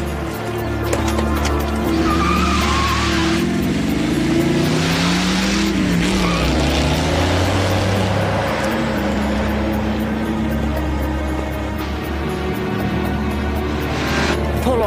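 A fast-moving car roars with a steady engine drone and squealing, skidding tires throughout, loud and continuous with wavering pitch, no talk over it.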